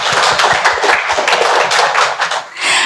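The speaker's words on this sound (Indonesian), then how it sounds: "Tepuk tangan buat kita semua di sini." A burst of audience clapping at a talk, brisk and fairly close, sustained for a few seconds before tapering off.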